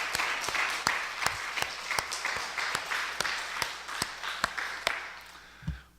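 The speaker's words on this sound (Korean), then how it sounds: "우리에게 부활의 축복을 주신 우리 하나님께 영광의 박수를 올려드리겠습니다." A church congregation at an Easter Sunday service claps in a steady, rhythmic beat, each clap distinct and fairly soft in the room, fading near the end.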